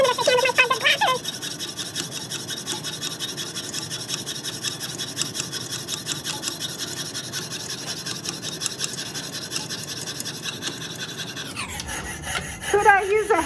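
A fine saw fitted with a number 2 blade cuts parallel lines into metal tubing with fast, even rasping strokes that are close and fairly loud. The strokes stop briefly and resume near the end.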